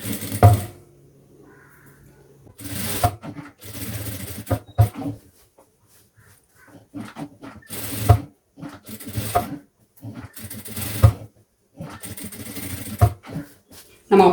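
A sewing machine stitches blouse fabric in short bursts of rapid mechanical clatter, each run lasting a second or so, separated by quiet pauses, close and clear.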